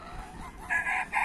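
Desi hens on a poultry farm give a short run of clucking calls, a couple of sustained squawk-like notes rising over a soft background, close and moderately loud.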